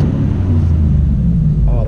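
A truck engine revs in neutral inside a parking structure, a loud, deep, sustained rumble that swells toward the end, with a voice talking briefly over it.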